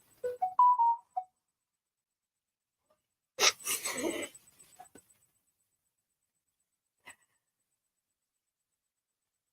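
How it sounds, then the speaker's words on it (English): A short run of electronic beeps from a phone at the start, followed by silence, a burst of rustling noise and a single faint click, in Venice. "if you hear the beeping, that's my phone"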